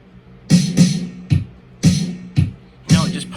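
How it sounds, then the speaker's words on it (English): A layered snare drum programmed in GarageBand with a punchy 1980s character hits five times in an uneven beat pattern, each crack loud and close with a short decaying tail, and no talking. "I layered another snare under it, and it sounds like this."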